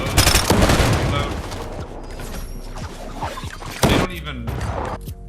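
SMG fire in Fortnite: rapid, dense bursts of shots, loud and near, running almost nonstop with a sharp spike near the end amid other game noise.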